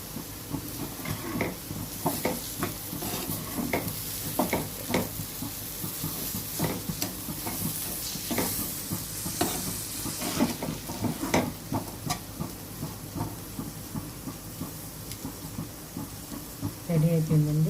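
Carrot fry being stirred in a pan, with a soft sizzle and hiss under repeated scraping strokes of a spatula, close and moderately quiet, steady throughout.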